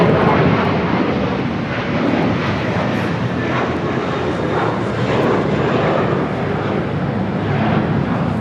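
Jet engines of an Atlas Air Boeing 747-400 freighter at Los Angeles International Airport, a loud, continuous broadband roar that holds steady throughout with no break.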